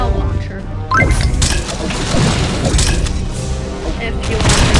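A cloud launcher in Pixel Gun 3D fires in heavy booming bursts amid crashing game effects, dense and loud throughout, with a voice speaking over the action.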